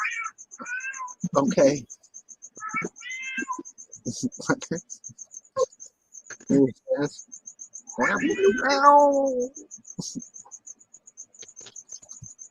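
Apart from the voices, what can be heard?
cat meowing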